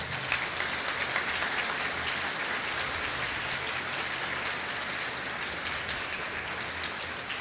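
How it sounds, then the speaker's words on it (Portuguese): A church congregation applauding, a dense and steady wash of many hands clapping that holds evenly throughout, with no voices standing out. "Merece nosso aplauso"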